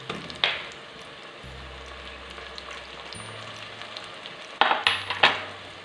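Garlic ginger paste frying with onions and cumin in oil in a pan for kidney bean curry, a soft continuous sizzle with sharp spoon-and-pan clatters near the start and end.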